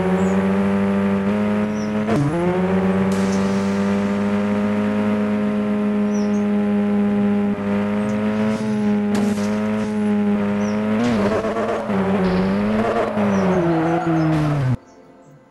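Rally car engine from the Rally Horizon game, a steady loud drone with rising revs that holds through the race, a few brief gear shifts and dips, then cuts off abruptly near the end.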